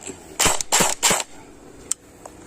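A BB gun set to semi-automatic fires one round per trigger pull: three sharp, close shots in quick succession, followed by a few faint mechanical clicks.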